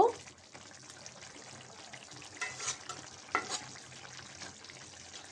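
Small fish frying dry in a pan with coriander leaves, a soft steady sizzle with a couple of brief stirring scrapes, quiet and close, no voices.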